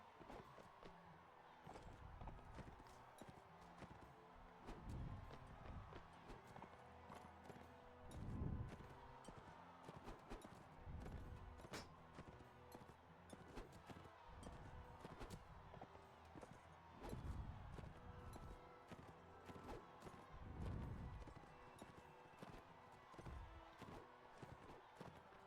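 Horse hooves pound in the video game Mount and Blade Warband during a tournament fight, a rhythmic clip-clop of gallops in repeated faint waves under a busy battle background.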